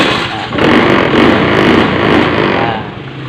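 Honda fuel-injected motorcycle with a TPS sensor fault and rough idle, its engine revving loud and close, rising into a sustained throttle blip for about two seconds and then dropping away as the throttle is released.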